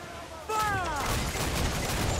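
A ship's cannon broadside in the Assassin's Creed IV naval battle game erupts after a brief quiet moment, a loud layered booming volley that rolls on as a dense rumbling barrage, with a voice shouting just before it.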